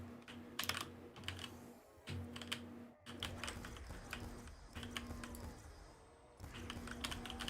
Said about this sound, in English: How loud is my keyboard, by the way?